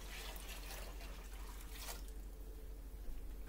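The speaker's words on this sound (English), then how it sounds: "8 cups of cold water." Eight cups of cold water poured for a turkey brine, a soft continuous stream splashing into a container, quiet and steady without talk, the pour thinning out toward the end.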